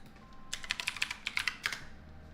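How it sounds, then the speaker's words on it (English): Rapid keystrokes on a computer keyboard sitting right beside the microphone, a loud close burst of clicky taps lasting under two seconds over a quiet room hum. "you're gonna hear me type like super loud because the microphone is right by my keyboard"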